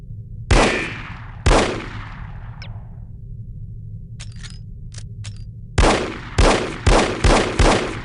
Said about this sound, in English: You can shoot through certain walls and objects.